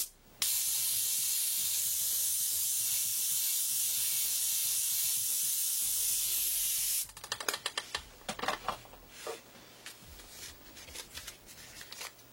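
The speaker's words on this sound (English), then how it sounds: "Spray that white." White spray paint hissing from an aerosol can in one long continuous burst lasting several seconds, close and steady, followed by a few shorter spurts and rustling clicks.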